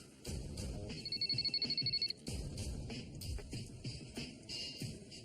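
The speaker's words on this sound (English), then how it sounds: "That afternoon, Paulo's phone rang" Telephone ringing in a true-crime FBI kidnapping case: a short electronic ring burst over a busy, dramatic background score, with nobody talking.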